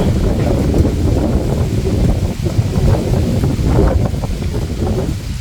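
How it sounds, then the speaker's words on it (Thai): Cold wind rushes steadily across a mountain valley, buffeting the microphone with a loud, continuous roar that never lets up. "ลมหนาวเริ่มมาเลย"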